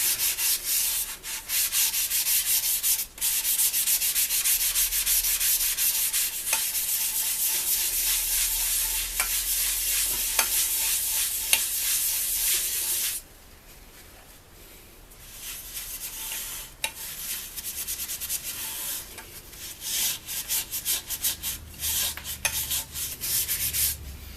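Finishing product rubbed by hand into a spalted sycamore bowl on a lathe, a steady close broadband rubbing that runs continuously, drops to near quiet briefly, then resumes in patchier strokes.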